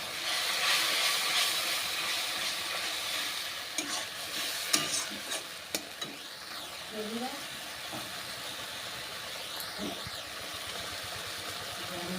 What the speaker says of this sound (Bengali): এবার একটু লবণ, হলুদ আর একটু জিরে গুঁড়ো দিয়ে ভালো করে মশলাটাকে কষিয়ে দেব।